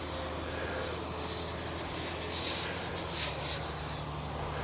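An E-flite RC F-16 with a 70mm electric ducted fan jet rushes past at full speed, a steady close whooshing whine swelling slightly midway, with no talking.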